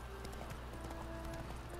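Horse hooves running in The Witcher 3 make a steady clip-clop rhythm over a constant low game ambience, moderately close.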